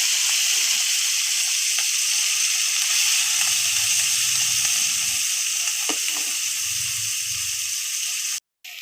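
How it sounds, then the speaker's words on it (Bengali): Prawns fry in mustard oil in a wok, a loud, close, steady hiss of sizzling that fills nearly the whole stretch, with a few soft stirring knocks underneath and a brief cut-out near the end. "সর্ষের তেলই নিয়েছি সর্ষের তেল দিয়েই মাছ ভাজবো"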